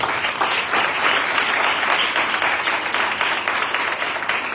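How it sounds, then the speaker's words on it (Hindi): A church congregation claps at a service, a dense, sustained round of applause from many hands that holds steady throughout. "लिए तालियां बजाएंगे"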